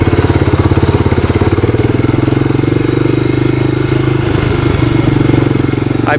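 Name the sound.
1985 Honda ATC250SX three-wheeler engine running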